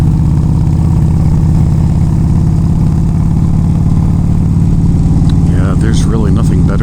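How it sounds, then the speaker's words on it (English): A motorcycle fitted with a TAB exhaust and zombie baffles rumbles at a steady, loud, close drone while riding down dirt roads, with a voice speaking over it near the end. "listening to the tab exhaust with the zombie baffles"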